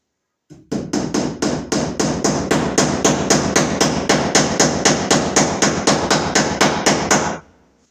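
Steady, rapid hammer blows drive a cable staple into wood over and over in an even rhythm, loud and close, each a sharp crack, then stop abruptly, during electrical receptacle wiring.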